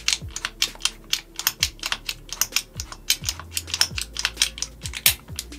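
Repeated mechanical clicking and ratcheting of a bolt assist pushing the bolt carrier forward on an Umarex/KWA HK417 A2 gas blowback airsoft rifle, roughly twenty crisp close-up clicks in a steady rhythm with low thumps between.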